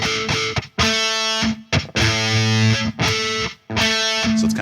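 Distorted electric guitar sounding an octave chord picked one note at a time with the string between muted, several separate plucked bursts with short gaps between them, played close with no talking.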